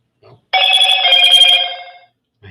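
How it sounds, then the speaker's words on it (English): A mobile phone rings close by in one bright, sustained electronic tone lasting about a second and a half, loud and clear against near silence. "My phone keeps going off. It goes off at times I don't want it to."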